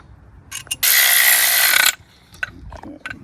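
Ratchet giving a final snug to the 11 mm bolts on a RotoPax spare tire mount, one loud continuous burst of about a second close by, with a few soft clicks and taps around it.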